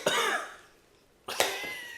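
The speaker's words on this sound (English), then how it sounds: "Had a little cough there for a second." Two harsh, close coughs, one at the start and another about a second later, each trailing off.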